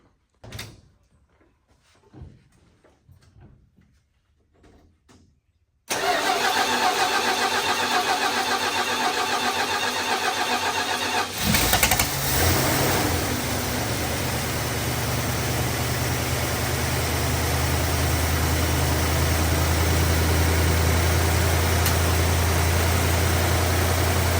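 An engine that sat unrun for about two weeks, started without added fuel: a few quiet clunks, then a sudden catch into a loud steady run that shifts around eleven seconds and settles into a high, even idle close by.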